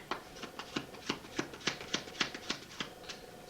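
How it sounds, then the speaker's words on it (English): A full deck of playing cards is shuffled by hand, giving a steady run of about a dozen crisp riffling bursts at a brisk, even rhythm, close and fairly quiet. "I'm going to shuffle the cards."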